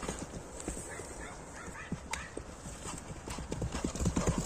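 A long-legged racehorse gallops in a mares-and-foals horse race, its hooves beating a fast, steady clip-clop with long strides that grows louder toward the end, with faint voices in the background.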